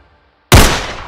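A single loud, close gunshot cracks suddenly after half a second of near silence, then decays slowly, in a scene from a short Rwandan action film about a gun seller.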